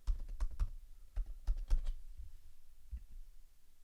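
Someone types a password on a computer keyboard: quick bursts of crisp key clicks in a few clustered runs, then a short pause and a final isolated tap, close and fairly quiet with no talking.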